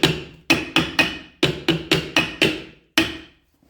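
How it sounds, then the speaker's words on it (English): A rawhide hammer tapping on a workpiece, about ten sharp close strikes in an uneven rhythm, each ringing and decaying briefly, loud and alone. "It's a hide hammer, not a hard hammer."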